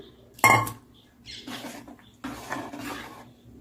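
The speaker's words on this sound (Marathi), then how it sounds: "आता आपण याच्यामध्ये हे आपण भिजवलेले तांदूळ टाकून देऊ" Soaked rice tipped into a pot of boiling milk and water for rice kheer: one sharp clatter and patter as the grains land, then two softer rustling, scraping spells, close and moderately loud, with no talking.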